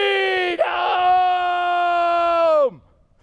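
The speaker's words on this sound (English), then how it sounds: "I do the Indian yell." A man gives a loud, sustained whooping yell that holds a steady pitch for over two seconds before sliding down and cutting off, alone and close.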